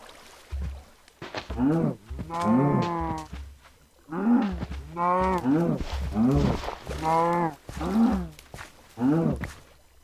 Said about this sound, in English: Cow, kill the cow.